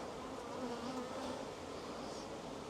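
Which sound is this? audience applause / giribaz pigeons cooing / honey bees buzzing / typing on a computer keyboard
honey bees buzzing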